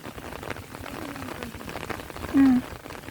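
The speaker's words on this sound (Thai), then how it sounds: "ฝนนี่" Rain falls steadily over rice paddies in a rural Thai village during planting, a soft continuous patter with a brief tonal sound near the end.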